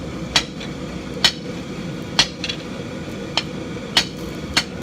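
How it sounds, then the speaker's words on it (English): A hammer strikes hot steel as the two-sided point of a sword is forged on a big piece of stock, six sharp ringing blows landing at a steady, unhurried pace over a low background rumble. "Forging out a two-sided point on a big piece of stock like this can take a little bit of doing."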